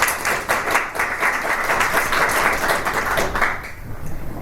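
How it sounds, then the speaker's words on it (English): A live audience at a fashion and gender panel event gives the panellists a round of applause, dense clapping that holds steady for about four seconds and then begins to thin out, with no talk over it. "Let's give them a round of applause first."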